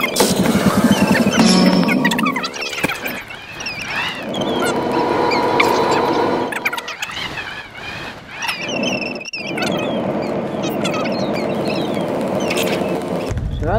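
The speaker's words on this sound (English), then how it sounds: "That noise is yellow." In Rainbow Friends Chapter 2, the yellow monster lets out loud, warbling squeals and quacking cries, dense and chaotic, mixed with game noise for the whole stretch.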